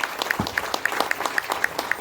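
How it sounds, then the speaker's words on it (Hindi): Loud, steady clapping rises for a team leader being honored at a Safe Shop company event, with sharp repeated claps and light crowd noise running through the short burst. "बार जोरदार ताली होना चाहिए"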